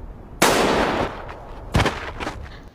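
Two sharp gunshots ring out about a second apart in the Squid Game red light, green light scene. Each loud crack trails off in a reverberant decay.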